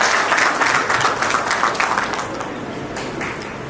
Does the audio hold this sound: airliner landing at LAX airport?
no